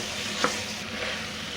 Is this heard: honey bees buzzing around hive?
no